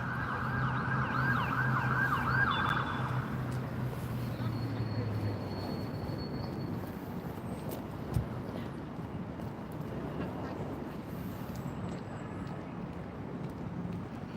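Ambulance sirens pass along a street outside Buckingham Palace, a rising and falling wail that is loudest early and fades over several seconds, under a steady crowd and traffic hum.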